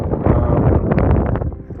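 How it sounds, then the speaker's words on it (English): Gusty wind buffets the microphone in an old graveyard, a loud, continuous low roar with slight rustling throughout. "I hope you guys can hear because it's pretty windy."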